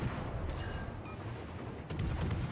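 Warship guns fire during a naval battle in World of Warships: Legends, heard as a few faint, muffled booms over a low rumbling background, with a couple of sharper reports near the end and no talk.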